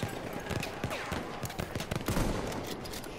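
Arisaka bolt-action rifle shots in the World War I shooter Battlefield 1: several sharp cracks and bursts of battlefield gunfire scattered through a busy, noisy mix, fairly loud, with no talk.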